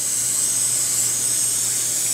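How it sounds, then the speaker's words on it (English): A 3.5 by 10 dental implant drill widens an osteotomy in bone at tooth #9. It produces a constant, shrill, hissing whine heard up close with no voices. "Next, we're going to go to our next size drill,"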